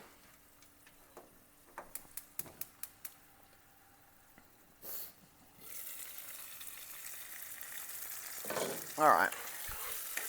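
Onions frying in a pan for a chicken, rocket and feta salad crackle with a steady sizzle that swells from about midway on. Earlier come a few sharp ticks and clatters, and a voice speaks briefly near the end.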